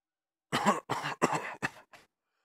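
Five harsh coughs in quick succession, loud and close, tapering off at the end, followed by silence.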